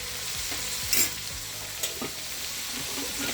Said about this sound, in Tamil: வதக்கி விட்டுக்குவோம் நல்லா